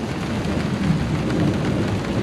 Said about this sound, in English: you can hear the thunder rolling off in the distance.